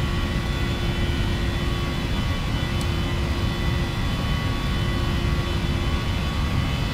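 Jet engines of a PMDG 737NGX in a flight simulator roar steadily at takeoff power, a loud, unbroken broadband rumble with a constant tonal whine layered over it throughout.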